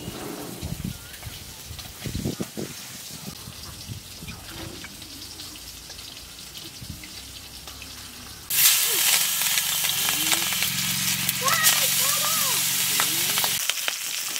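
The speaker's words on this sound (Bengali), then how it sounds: "এই সেই পাঙাশ মাছ, নদীর পাঙাশ মাছ এখন ভাজা হচ্ছে" River pangas fish fries in a pan, a quieter crackle at first that swells into a loud, steady sizzle close by, with faint voices in the background.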